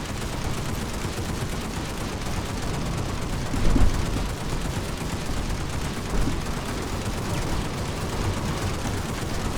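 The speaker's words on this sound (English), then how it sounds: "see what the SAW does by itself with hip fire. Empty the whole clip out." SAW light machine gun fired from the hip in Planetside 2, one long continuous automatic burst emptying the magazine, loud and dense throughout with no talking.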